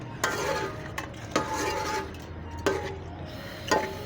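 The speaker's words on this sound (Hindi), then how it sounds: "दही डाल के हमें अच्छे से हांडी को भून लेना है" Masala with yogurt is stirred and roasted in a handi for aloo gosht, with four distinct spoon scrapes and knocks against the pot over a low, soft sizzle.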